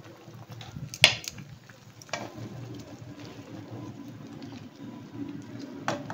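Tomato puree sauce for creamy shrimp pasta bubbling in a pan, a soft low simmer with faint popping, punctuated by a few sharp clinks of utensils on the pan.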